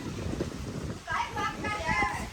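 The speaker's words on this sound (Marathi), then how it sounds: "वारा पण जाम आहे बेकार" Strong gusting wind during a dust storm buffets the microphone in rough bursts, with a person talking over it.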